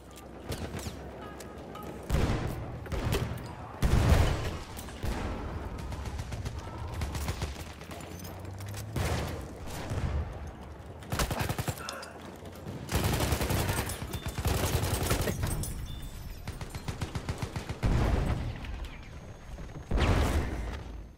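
Annihilator Trench and M1919 SMG gunfire in Battlefield 1, repeated loud automatic bursts of varying length separated by quieter gaps, with distant battle noise between volleys.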